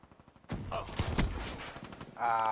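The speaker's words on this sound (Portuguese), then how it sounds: "Testando a arminha nova. Pistolinha, fenda. Ela é dois tiros, acho." Fenda pistol gunshots in Call of Duty: Black Ops 3, a quick burst of sharp game gunfire at close range followed by a sustained electronic tone, with a faint voice underneath.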